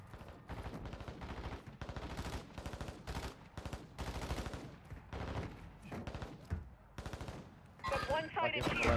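A bot fires bursts of automatic gunfire in Call of Duty DMZ, repeated loud rapid volleys with short gaps, under game radio chatter near the end.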